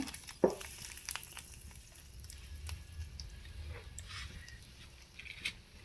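Dried chillies frying in mustard oil while making khichuri, a soft steady sizzle with light crackles and a few pops, close by and moderately quiet.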